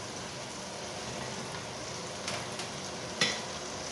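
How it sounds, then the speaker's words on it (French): Onions hitting a pan of hot fat for rabbit tajine fry with a steady, even sizzle, broken by a couple of brief clatters near the end; no voices. "maintenant je vais y rajouter mes oignons"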